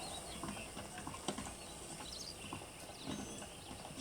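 Horse hooves clip-clopping in Red Dead Redemption, a quiet irregular patter of hoof steps with faint tack rattles, close and soft with no talk.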